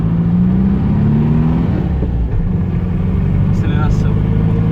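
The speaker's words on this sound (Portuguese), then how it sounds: "engatou uma terceira marcha, acelera e tem sua progressão muito boa" A 1986 Volkswagen Fusca engine with twin carburettors running on alcohol fuel, revving up in third gear: a rising whirring engine note that climbs steadily then steadies into a loud continuous drone.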